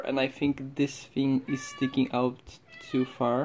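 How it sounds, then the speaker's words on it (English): A cat meows several times in short tonal calls, fairly close, interleaved with and partly under a man's steady speech. "Sorry for the cat."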